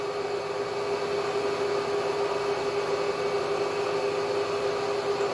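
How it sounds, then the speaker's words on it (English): Steady drone of a Bridgeport J head milling machine cutting during a boring pass, an even, continuous hum with a fixed tonal whine over broad noise, fairly quiet and without speech. "And I am sorry for the noise of the machine."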